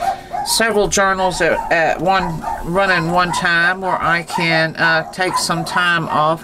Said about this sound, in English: Please pardon my dogs upstairs.